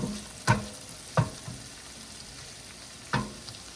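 Garlic and pancetta frying in butter and olive oil for a garlic shrimp linguine make a soft, steady sizzle, punctuated by three sharp clinks of a utensil stirring against the pan.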